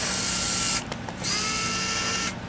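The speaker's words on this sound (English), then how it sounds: "So that's the drive motor." A Chameleon RTRR-1 antenna tuner's drive motor whirs in a steady, high electric whine close up, briefly stopping and then running again before cutting off.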